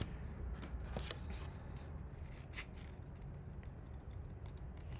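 Scissors fussy cut paper for a gatefold pop-up card, giving faint, close snips and papery rustling in quick irregular strokes for a few seconds, with no talking.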